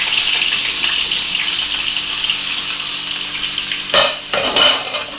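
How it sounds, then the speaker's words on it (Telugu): Cooked dal bubbling in a pan with a continuous hiss, then two brief clattering splashes as chopped potatoes drop in, near and fairly loud. "ఇప్పుడు మనం ముందుగా కట్ చేసి పెట్టుకున్న బంగాళదుంపలను అయితే వేసేసుకోవాలి."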